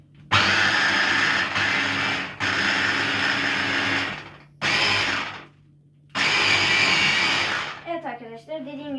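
A blender purees hummus, whirring loudly in several long bursts with short pauses between, and a voice speaks briefly in Turkish at the end.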